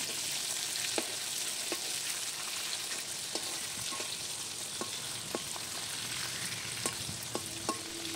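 Boal fish fries in hot oil with a continuous bright sizzle, broken by occasional soft clicks and taps, close up with no voices.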